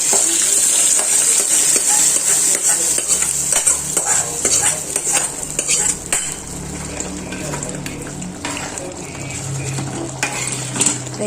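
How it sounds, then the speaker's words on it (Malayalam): Onions and curry leaves fry in a pan of Kerala-style roasted-coconut chicken curry, a steady bright sizzle running throughout with clinks and scrapes of a stirring spoon against the pan. "കുറച്ച് ഉള്ളിയും വേപ്പലും കൂടി നമുക്ക് വറുത്തിട്ട് കൊടുക്കാം"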